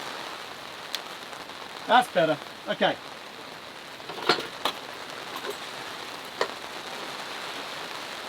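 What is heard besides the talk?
rain falling during car camping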